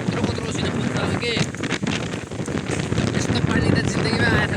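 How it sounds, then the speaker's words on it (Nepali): Strong gusting wind roars against the microphone outdoors as rain blows across the hillside, a steady broadband rush that swells and dips throughout. "यस्तो पानी त जिन्दगीमा आएको थिएन होला कि यस्तो हावाहरूसित यहाँ पानीभरि उडाइदिएर डेन्जर छ एकदम"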